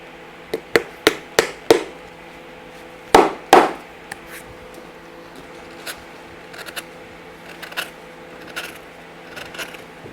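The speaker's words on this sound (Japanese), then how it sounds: "そこに木釘を打ち込みます" Wooden pegs hammered into a leather shoe sole while making a heel: a run of sharp, close taps in a quick rhythm, then two heavier blows, then quieter scattered taps.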